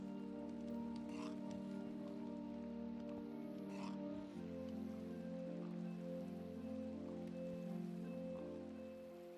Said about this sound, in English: I kind of like the deeper underground sound of rain that you get.